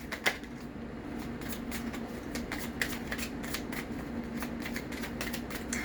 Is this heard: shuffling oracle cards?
yes